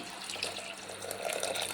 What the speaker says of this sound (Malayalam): നമ്മൾ ഇതിനകത്തേക്ക് ആവശ്യത്തിന് വെള്ളം ഒഴിച്ച് അടുപ്പിൽ വയ്ക്കാം